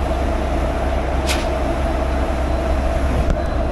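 WAP-4 electric locomotive of Santragachi shed heading the Rupasi Bangla Express, a loud, steady railway rumble and hum that continues unbroken, with a brief higher squeal partway through.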